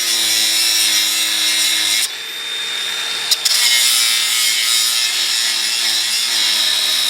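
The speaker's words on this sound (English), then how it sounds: "I cut into it, trying to get all the way through the nut so it can spread open and spin easier on that rusty ass shaft" Cut-off wheel grinding through a rusty nut on a car shaft, a loud, close, continuous high-pitched screech with a brief dip and a sharp click partway before the cutting resumes.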